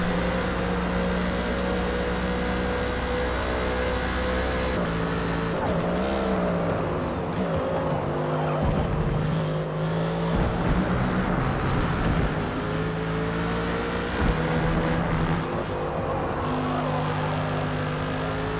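Racing engines of an AMG GT3 race car and rivals in a racing video game drone and whine continuously, pitch rising and falling through gear changes, with brief tire squeals and skids.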